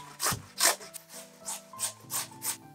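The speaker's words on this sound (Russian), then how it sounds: "Берем одну большую крупную картофелину и натираем на крупной терке." Large potato rubbed against a coarse kitchen grater, about seven short rasping strokes in a steady rhythm, close and crisp over faint background music.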